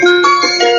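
A Bluetooth speaker plays music loudly and steadily at close range, with sustained tonal notes that shift in pitch and no talking over it.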